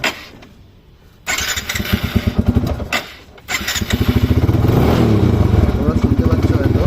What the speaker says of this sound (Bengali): তো আমি বাইকে কোল্ড স্টার্ট করছি।